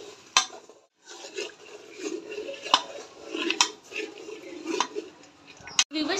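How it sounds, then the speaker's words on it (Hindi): Aloo chicken masala with potatoes is stirred and fried in a pot, a spoon scraping and clinking against the metal in irregular strokes over a soft sizzle, close and moderately loud. "इसको हिला लेते हैं। व्यूअर्स, अब हम इसको 5 मिनट भूनेंगे।"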